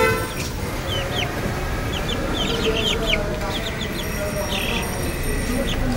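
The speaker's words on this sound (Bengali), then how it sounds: "এই যে মুরগিগুলো" Chickens kept on a home balcony cluck and call in short repeated bursts over a steady background murmur, with faint talk nearby.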